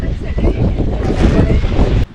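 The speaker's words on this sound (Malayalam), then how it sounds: "ഭയങ്കര കാറ്റുണ്ട്" Strong mountain wind at Eravikulam National Park in Munnar roars and buffets the microphone in loud, continuous gusts for about two seconds, then cuts off abruptly.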